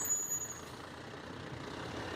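A side dump truck approaches a snow pile with a steady, fairly close engine rumble that holds at a constant level. No one speaks.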